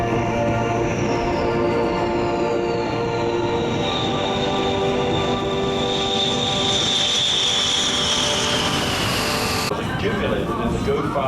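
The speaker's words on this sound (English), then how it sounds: "Final landing by the B-1." Rockwell B-1 bomber landing at the Avalon air show, a loud, sustained jet roar with a rising and falling whine that stays close throughout, then cuts off abruptly near the end.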